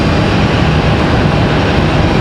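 FedEx jet arriving at Raleigh-Durham airport roars with a continuous broadband engine rush, loud and steady with no speech over it.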